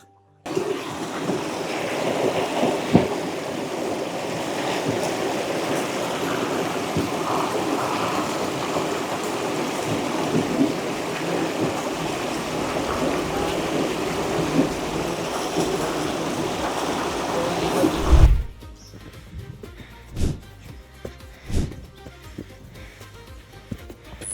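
A waterfall on the Jordan riverbank roars with a steady, dense rush of falling water for most of the stretch, then cuts off abruptly near the end, leaving only faint scattered sounds.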